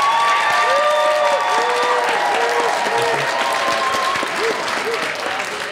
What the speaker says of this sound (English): if you like this answer, applaud now